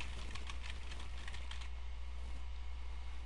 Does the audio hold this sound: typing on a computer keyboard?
yes